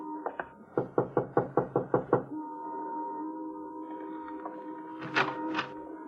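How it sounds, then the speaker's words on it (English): A series of firm knocks on a door in an old-time radio drama, about ten evenly spaced raps in a quick rhythm, close and loud, followed by a brief low hum and a couple of faint thumps. "Want to knock?"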